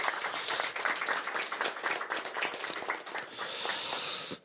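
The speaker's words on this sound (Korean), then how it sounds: "큰 응원의 박수를 부탁드리겠습니다" Crowd applause at a Democratic Party campaign rally in Incheon for a political candidate, dense steady clapping with a hissy wash that swells near the end and cuts off abruptly, no speech.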